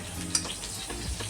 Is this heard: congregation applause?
no